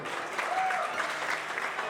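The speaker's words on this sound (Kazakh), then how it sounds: "Шәкіртлер шапалақ болсын, ана төрде отырған шәкіртлер." Applause fills a wedding celebration, a dense, steady clatter of many hands clapping together at moderate loudness throughout with no pauses.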